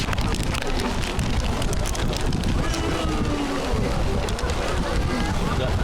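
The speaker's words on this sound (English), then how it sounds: "This is how the rain's been for most of the day, to be fair." Heavy rain pours down outdoors during a men's crown green bowls championship final, a loud, dense, continuous hiss of drops hitting the ground and surfaces, steady from start to finish.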